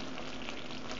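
A pork julienne base simmers and sizzles in a pan while being stirred, giving a brief, quiet, steady crackling hiss.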